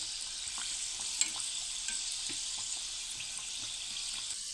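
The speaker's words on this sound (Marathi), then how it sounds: "मस्त अशा इथे आपल्याला हलक्या रंगावरती यांना तळून घ्यायचं आहे।" Moong dal kachoris deep-frying in hot oil, a continuous fine sizzle and crackle with scattered small pops and a brief sharp tick, steady and close with no voices.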